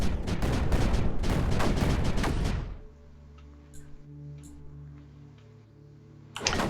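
Cannon and mortar fire in the video game Creeper World 4, a dense burst of rapid loud shots that stops abruptly, leaving a quiet hum with faint clicks before another shot.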